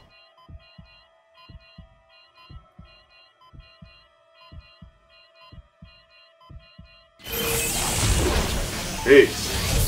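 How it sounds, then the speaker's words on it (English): A steady, throbbing heartbeat from the Dead Space 2 video game pulses in regular double beats, low and close, before a loud burst of game noise cuts in near the end. "Heartbeat's not helping."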